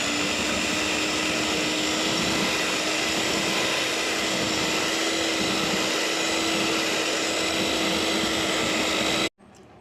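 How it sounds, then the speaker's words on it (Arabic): Electric blender whirring continuously at high speed as it mixes thick homemade ice cream, a loud steady drone with a high whine that runs unbroken for several seconds and then cuts off abruptly. "هسه نبدي نخلط بالخلاط"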